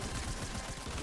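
Rapid gunfire in the video game Fortnite: a dense, continuous stream of fast shots with a quick pulsing rhythm, fairly quiet and heard alone without voices.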